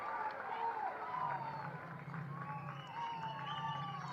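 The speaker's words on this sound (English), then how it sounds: "Crowd is boisterous here at Canal Park" Boisterous crowd murmur at a chilly Canal Park baseball game, a steady wash of many voices and scattered shouts under a commentator's running play-by-play.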